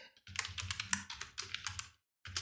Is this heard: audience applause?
no